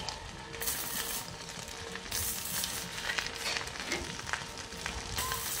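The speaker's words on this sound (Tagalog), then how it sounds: "Ayan, malaking sunog sa damuhan." A large grass fire burns across a field, making a dense, continuous crackling and hissing with scattered sharper pops. It is fairly faint and steady throughout, with no voices.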